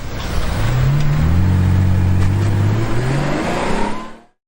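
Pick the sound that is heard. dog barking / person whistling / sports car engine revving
sports car engine revving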